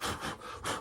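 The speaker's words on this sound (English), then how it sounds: "So I'll sand that out a little more." Rough, abrasive rubbing of sandpaper on the wood of a Gibson J-185 acoustic guitar neck during a neck reset, two close strokes separated by a brief pause, steady and fairly loud.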